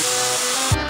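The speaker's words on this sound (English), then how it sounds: "spray some deo or perfume" A single continuous hissing burst of deodorant or perfume spray, close and steady, ending with a brief soft thump as the nozzle is released.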